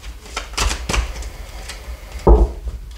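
A deck of oracle cards is cut and handled, giving a few soft papery slaps and flicks followed by one sharper, louder snap near the end.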